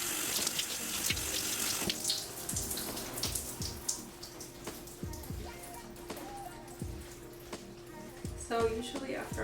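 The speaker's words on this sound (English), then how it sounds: "I'm going to wet my hair again" Tap water runs steadily while wet hair is worked through during a thick 4C hair wash, with splashes and drips close by and an occasional voice over the flow.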